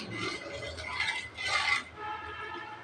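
A falooda jelly mixture being stirred in a pan over a medium-high flame: scraping and rubbing strokes of a utensil against the pan, with a louder burst near the middle and no talk.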